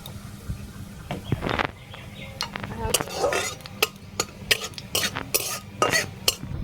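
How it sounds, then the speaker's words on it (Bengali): Nigella seeds are tempered with fried onion in a pan, giving sharp scattered pops and crackles along with metal utensil clinks and scraping against the pan, close up over a low background hiss. "দিয়ে দেবো কালো জিরে ফোড়ন।"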